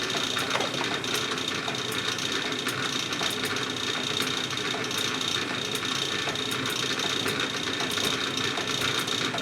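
Clausing 8520 milling machine cutting metal, a continuous mechanical whir with rapid ticking chatter and a thin high whine, steady and close for the whole stretch.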